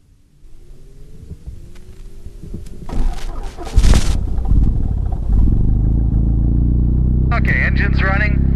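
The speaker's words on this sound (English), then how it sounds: "I'm now going to start the engine." A gyroplane (gyrocopter) engine cranks and starts, a low rumble building into a steady, loud idling drone with clattering bursts around ignition, close by, with a brief voice at the end.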